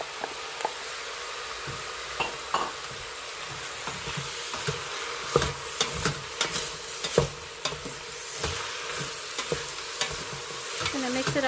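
Onions sizzle steadily in an Instant Pot on saute mode while a utensil stirs them, scraping and tapping against the inner pot in irregular knocks over a continuous frying hiss.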